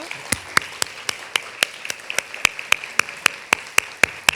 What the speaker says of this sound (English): let us give you your applause